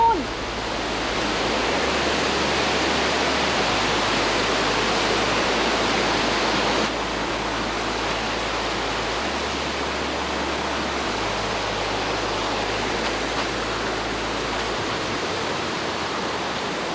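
Waterfall at Huai Hoi in Mae Wang, Chiang Mai, roaring as a steady, loud broadband rush of falling water that fills the whole stretch without a break.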